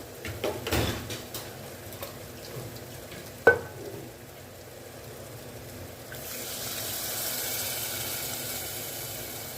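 Tamarind extract poured into a pan of simmering mango curry, a short splash followed by a steady soft bubbling hiss that rises and holds, close by with no talking.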